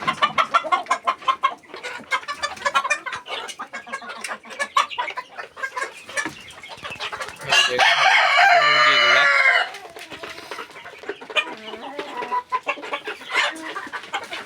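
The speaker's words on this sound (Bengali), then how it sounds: "আর এই যে দেখুন অনেকগুলো মুরগি, বড়।" Chickens in a backyard coop cluck steadily throughout, with a rooster crowing loudly for about two seconds in the middle.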